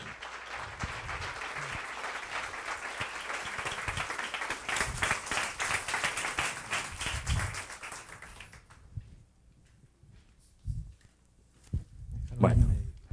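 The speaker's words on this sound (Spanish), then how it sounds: "quiero pedir un aplauso para Pato Bichara" Applause from a seated audience at a talk on formal versus informal learning, moderately loud and steady for about eight seconds before fading, followed by scattered taps, footsteps and murmured voices.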